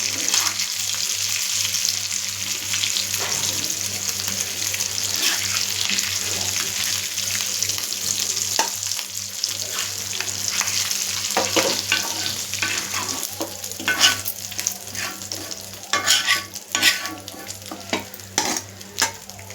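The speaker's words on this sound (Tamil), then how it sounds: "மீன் நல்லா பொரிஞ்சிருச்சு." Fish pieces fry in hot oil, a loud, continuous close sizzle that runs the whole time with occasional crackles and stirring clatter near the end, with no talking.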